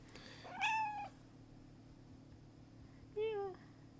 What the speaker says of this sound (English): There's a little bit of a cat ASMR.